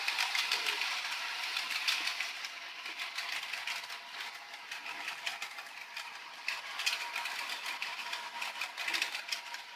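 A DCC model train runs on its track, giving a continuous rapid mechanical whir and clicking of small gears and motor at a fairly even level throughout, with no talk.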